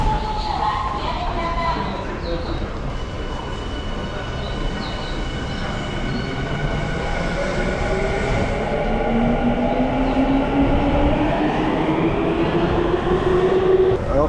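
A Tokyo subway train rumbles steadily and loudly through the station, its low roar joined by a slowly rising motor whine, with faint voices in the background.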